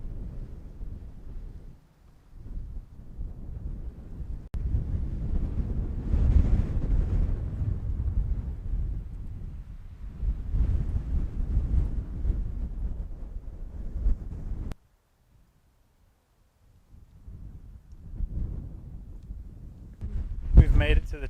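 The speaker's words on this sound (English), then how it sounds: "It's nice and windy over here" Gusty wind buffets the microphone on a mountain summit, Little Haystack on Franconia Ridge, in low rumbling surges with a brief lull, while a person speaks.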